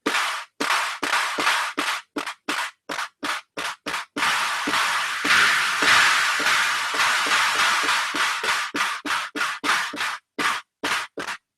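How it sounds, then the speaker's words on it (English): Dirty, noisy claps from an Akai Tom Cat analog drum machine fire in a fast, rhythmic sequence of sharp bursts, with a brief sustained wash in the middle before the pattern resumes. "Clap's a little on the dirty side, which to me isn't a horrible thing."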